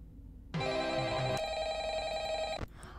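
A telephone rings loudly in the horror video game Ultimate Custom Night, a single sustained electronic bell tone lasting about two seconds and cutting off abruptly, with no talk over it.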